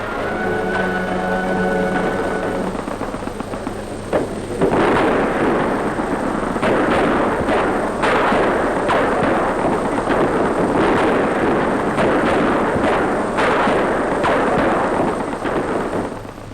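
Dense gunfire and artillery from WWII street fighting in Cherbourg, a continuous roar of shots and blasts with repeated sharp bursts, loud and close throughout after a brief tonal opening.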